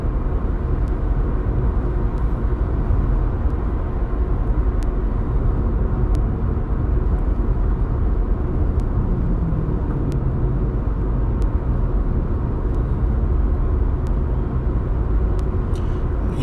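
A car being driven on the road, with a steady, continuous low engine and road rumble throughout and no talk over it.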